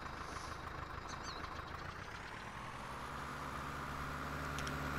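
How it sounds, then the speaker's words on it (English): Tractor engine in Farming Simulator 19 hauling a log through a forestry area, a steady low droning hum with a rising pitch toward the end, loud and continuous with no talk. "Okay, so let's see how the tractor pulls it."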